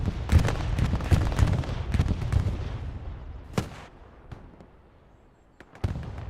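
A bombing run in Hell Let Loose, a World War II shooter, drops a dense rumble of explosions near a main road, heavy and close at first, then fading into scattered distant booms and sharp cracks.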